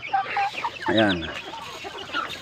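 Chickens at a mini farm cluck close by, with one loud drawn-out squawk in the middle and softer clucks around it, while someone talks briefly.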